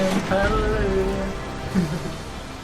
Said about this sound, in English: It's raining and hallelujah.